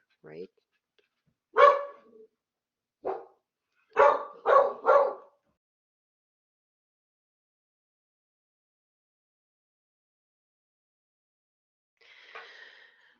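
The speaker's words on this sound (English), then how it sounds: "I apologize for my dog's behavior." A dog barks indoors in several sharp bursts, one single bark, then a quick run of three, before falling quiet; a voice speaks briefly at the start.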